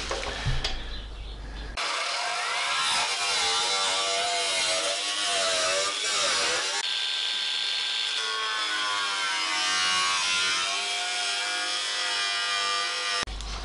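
A drill bores out spot welds on a Morris Minor body panel, a steady loud grinding whine with pitch shifts, broken by a short pause before running on continuously.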